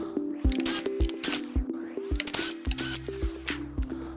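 Small 3mm screws being backed out of an Inmotion P6 electric scooter during a headlight replacement, heard as a series of close, sharp clicks and ratcheting taps in an irregular rhythm, with a steady hum underneath and no talking.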